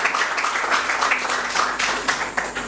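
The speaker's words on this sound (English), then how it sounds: "Let's welcome him with a round of applause." Audience applause at a student council handing-over ceremony, a steady wash of many hands clapping filling the room without pause, fairly loud and close.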